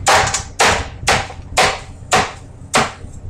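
Heavy knife blade chopping hard through the rind at the edges of a watermelon, six loud, sharp thuds spaced about half a second apart.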